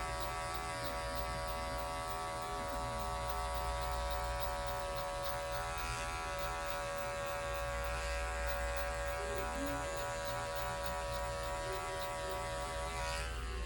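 Electric hair clippers closed down to zero buzz continuously at close range while cutting a fade, a steady motor hum with slight shifts as the blade corner works through hair.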